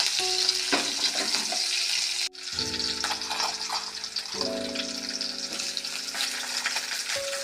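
Ingredients for a Telangana-style chickpea snack frying in a pan, a loud continuous sizzle with bursts of stirring and clinking, close and steady throughout, with no talk.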